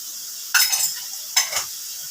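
Two short scraping strokes of a spoon stirring thankuni leaf paste frying with garlic in a pan, each a brief rasp over a quiet, faintly hissing background.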